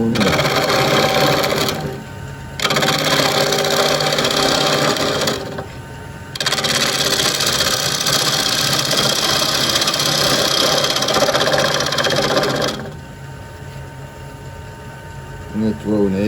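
A bowl gouge hollows a hard, dense kiawe bowl spinning on a wood lathe at about 1,000 RPM, loud continuous scraping and whirring in long passes broken by brief pauses, close up.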